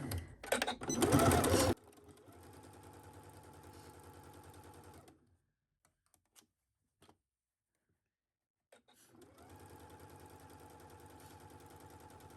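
A sewing machine stitching a baby onesie: a loud whirring burst, then a steady rapid stitching hum that stops for a few seconds of near silence with faint clicks before stitching resumes at the same pace.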